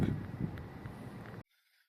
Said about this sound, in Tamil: ஆல்மோஸ்ட் 30 மைல்ஸ் பர் ஹவர் காற்று